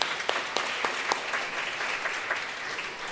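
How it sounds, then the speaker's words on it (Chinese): A church congregation applauding in welcome during a Sunday service, a moderate wash of many hands clapping with scattered sharper claps, steady and fairly distant. "咱拍手欢迎"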